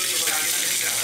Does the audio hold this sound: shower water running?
yes